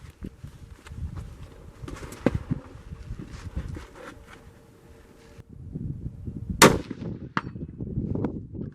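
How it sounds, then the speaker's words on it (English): Howa Oryx 6mm Creedmoor rifle fired at a 200-yard target outdoors: one sharp, loud crack about two-thirds through, with a fainter knock earlier, over low wind and outdoor rumble. "So here we're going to be shooting 200 yards."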